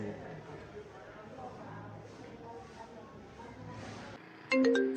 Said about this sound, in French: on a même le téléphone là qui sonne comme ça